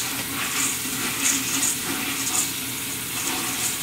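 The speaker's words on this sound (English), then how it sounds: "Give them a good rinse." Tap water pours steadily over navy beans in a strainer during rinsing, a continuous hissing splash with small clattering surges.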